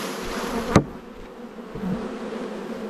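Honeybees buzz in a steady, dense hum at close range while they are moved from a Langstroth hive into a top bar hive outdoors, with one sharp click partway through and no talking.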